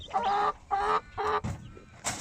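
Hens settling into a new chicken coop give several short, loud, close clucks in quick succession, each a brief throaty burst followed by pauses, with no talking.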